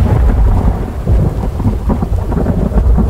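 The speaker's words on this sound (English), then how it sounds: "That storm's awful loud in my ear." Heavy video game thunderstorm with rolling thunder and steady rain, loud and continuous throughout without any talk.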